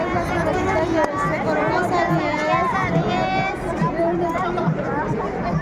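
Dense crowd babble fills a Halloween street celebration in La Paz, Bolivia: many overlapping voices and shouts, loud and continuous, with individual calls rising above the roar.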